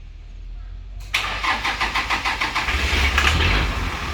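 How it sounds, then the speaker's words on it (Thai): A Toyota Dyna Unimog truck's engine cranks in a quick rhythmic series of turns after a short quiet stretch, then catches and settles into a loud, rumbling idle close by. "กำลังจะ สตาร์ทเครื่องให้ดูครับ"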